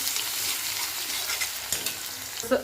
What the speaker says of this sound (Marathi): जिरे आणि मोहरी छान फुलली की आपल्याला एक चमचा अद्रक आणि लसण पेस्ट टाकायला घ्यायचे